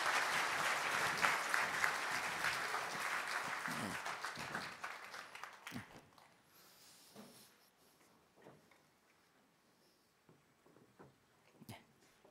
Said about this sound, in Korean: 우리 찬양팀도 계속 오전 오후 수고했는데 박수 한번 격려해 주세요.